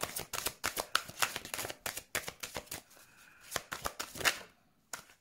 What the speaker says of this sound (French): Des cartes qui se retournent dans le jeu.